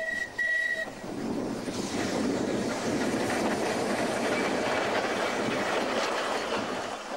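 An Isle of Man electric railway tram car runs along the line, a steady rumbling roll with rail noise after a brief whistle-like tone at the start, loud and close throughout.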